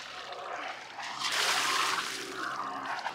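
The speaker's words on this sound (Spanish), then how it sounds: "También lo que hay que chequear es que salga agua de caño de escape" Cooling water gushes and splashes from a sailboat engine's exhaust pipe at sea. The trickle swells into a louder, irregular splatter over a low engine hum, with no voices.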